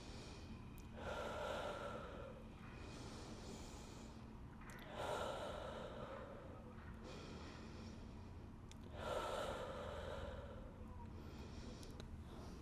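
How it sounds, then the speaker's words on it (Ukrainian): Deep breaths in and out during a morning stretching and energy workout, with three long airy inhale-exhale swells roughly four seconds apart, close and fairly soft over a quiet background. "Вдих та видих."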